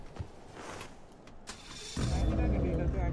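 A custom-built Honda Accord: faint clicks and a brief rev give way to a loud, deep exhaust rumble that holds steady for the last second, with people talking nearby.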